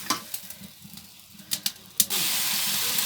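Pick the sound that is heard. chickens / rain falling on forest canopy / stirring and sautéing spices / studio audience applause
stirring and sautéing spices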